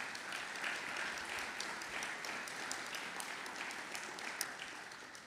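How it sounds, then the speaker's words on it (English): A university audience applauds the new provost at a State of the University address, a steady wash of clapping heard from a distance and at low level throughout, with no talking. "Let's give her a round of applause."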